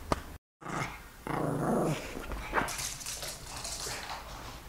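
A dog growls in low rumbling bursts, close and fairly loud, with a brief gap near the start and softer throaty grumbles trailing off toward the end.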